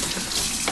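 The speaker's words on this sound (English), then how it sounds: "I'm just washing with a fingernail brush." Running tap water splashes steadily and loudly into a sink while hands are scrubbed with a fingernail brush in a home kitchen, a short continuous gush with nothing else heard.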